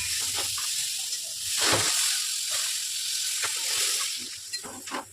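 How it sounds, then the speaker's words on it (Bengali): Water poured into a pan of sizzling fried masala for a Bengali fish curry, a steady hissing sizzle with bursts and bubbling, louder swells midway, and faint clinks of utensils. "এটা আমার কষানো হয়ে গেছে। এখন জল দিয়ে দেবো।"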